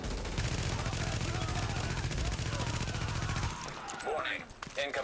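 Rapid sustained automatic gunfire from The Division video game, a dense loud burst of shots lasting a few seconds before cutting off, followed by quieter scattered game sounds.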